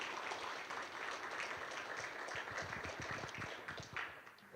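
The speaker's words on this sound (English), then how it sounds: "Another round of applause, please." Faint, steady applause from an audience at the Philip K. Dick Award ceremony, a dense patter of clapping that carries on throughout and swells slightly near the end.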